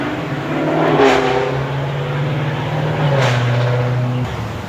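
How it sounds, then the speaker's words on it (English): A motorcycle passes in the background outdoors during a mulberry harvest, a steady engine drone that rises slightly and then holds, moderately loud throughout. "Please forgive the motorcycle in the background."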